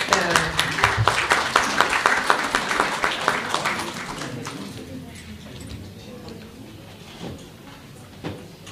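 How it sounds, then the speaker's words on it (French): Applause for performing artists at an awareness-campaign event, a crowd clapping loudly for about four seconds before it thins out into scattered claps and room noise. "Alors peut-être des applaudissements pour nos artistes"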